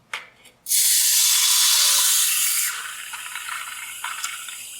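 Water splashing and spraying during an engine coolant flush on a 1962 AMC Rambler, a loud hissing rush that starts abruptly and then settles to a softer steady splatter.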